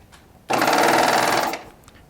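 A Baby Lock Triumph serger threaded with decorative thread runs in one short, loud, rapid burst lasting about a second, close up, with quiet before and after.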